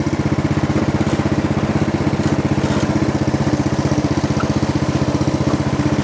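A Snapper riding mower engine runs in fourth gear with a steady, loud mid-pitched chug and rattling clatter that continues without a break, nearby, with no voices.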